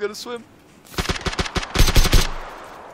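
Rapid automatic gunfire from PUBG shooting at a boat comes in loud clustered bursts of sharp shots. A brief voice is heard at the start.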